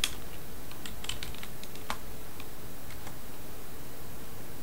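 Keystrokes on a computer keyboard as a name is typed while setting up an Azure Resource Manager virtual machine: a quick run of close, crisp clicks in uneven bursts over a steady hiss, with no voices.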